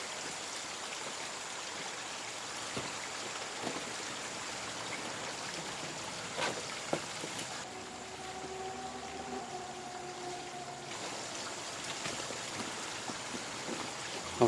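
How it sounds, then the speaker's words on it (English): A backyard waterfall fed by a secondary pump splashes in a steady rushing stream, with a few sharp drips and a faint tonal hum joining partway through. "So now I'm going to set up my secondary pump to this waterfall."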